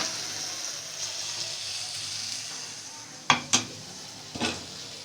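Tomatoes softening in a pan for street-style mini burgers give a steady soft sizzle, then a few sharp scraping knocks of a utensil against the pan near the end.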